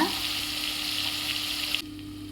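Onion, tomato and ginger-garlic paste frying in a pan for mutton dum biryani, a steady close hiss of sizzling oil that runs continuously, then drops abruptly quieter near the end.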